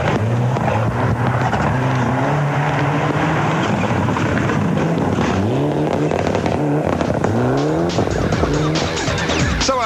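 A Group A rally car on a special stage of the 2004 New Zealand Rally Championship round in Hawke's Bay races past with a loud engine climbing and dropping through gear changes, tires scrabbling, close and continuous.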